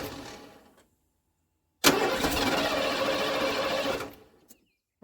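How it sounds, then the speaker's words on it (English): A 1991 Ford F-150 truck engine that tends to start hard after sitting: a quiet fading sound, a silent gap, then the engine bursts into a loud steady churning run for about two seconds before cutting off abruptly, with no speech. "I'm gonna actually just go ahead and turn on the engine."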